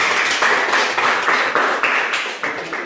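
A classroom gives applause for a student group, a steady run of close, evenly spaced hand claps from several people, with no talking over it.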